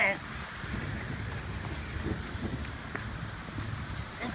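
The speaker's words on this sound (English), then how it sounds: "it's pouring rain down here" Heavy rain pours steadily outside a parked car, a dense, constant hiss with faint wind rumble and a brief voice near the start.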